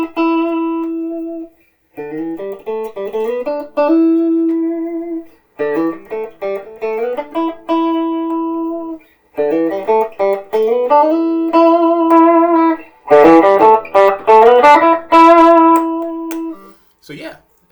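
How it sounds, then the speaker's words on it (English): A beginner electric guitar with stock ceramic pickups plays clean chords and short melodic phrases with brief pauses between them, bright and close, without distortion. "The stock ceramic pickups in clean mode sound okay to me."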